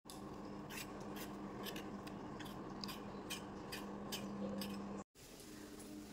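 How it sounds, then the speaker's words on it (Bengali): Vegetables are cut by hand in a home kitchen with a steady run of crisp, rhythmic chopping taps. There is a brief break near the end before the cutting resumes. "তো এখন সমস্ত সবজি কাটতে বসেছি আমি।"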